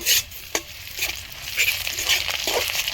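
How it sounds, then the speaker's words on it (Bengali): A spoon stirs fried coconut, onion, bay leaf and raisins in a hot pan, with a steady close sizzle and a few sharp scraping knocks against the metal. "আমি ভালো করে নেড়ে নেবো"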